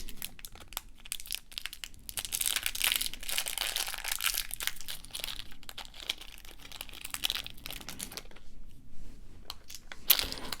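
Close, continuous crinkling and crackling of a plastic package of glass beads being opened and handled, louder in the middle, with a brief pause near the end.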